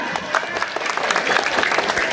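An audience at an Isra' Mi'raj religious lecture claps loudly and briskly in a short, dense burst, with a faint murmur of voices underneath.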